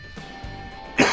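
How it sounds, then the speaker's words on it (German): A man with a lingering cough gives one sharp, close cough at the very end after a brief quiet moment with a faint rasp. "Dieser Husten, der geht nicht weg"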